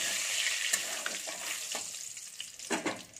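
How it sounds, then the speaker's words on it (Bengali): Bay leaf, broken dried red chillies and panch phoron fry in hot oil, giving a steady close crackling sizzle with a few sharper pops and stirring scrapes near the end. "আমি একটা তেজপাতা দিয়ে দিচ্ছি, দুটো শুকনো লঙ্কাকে ভেঙে দিয়ে দিলাম, আর একটু পাঁচফোড়ন দিয়ে দিলাম। এটা আমি একটু ভেজে নেব।"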